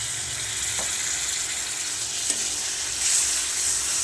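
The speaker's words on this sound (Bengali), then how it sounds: "এবার এর মধ্যে দিয়ে রাখছি ভেজে রাখা আলুগুলো। একটু নাড়াচাড়া করবো।" Fried potatoes and whole green chillies stirred into a pan of fish curry for aair fish, a steady close frying sizzle with a couple of soft spoon scrapes, no voices.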